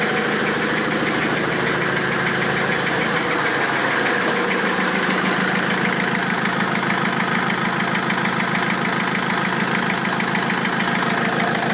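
A 2006 Mercedes C200 CDI diesel engine idles steadily after starting, a continuous close, loud clattering drone with even knocking rhythm and no talk.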